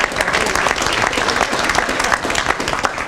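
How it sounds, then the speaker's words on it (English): A round of dense, steady applause from an audience at a foundation donation event, many hands clapping close and loud throughout. "Can we give them a round of applause?"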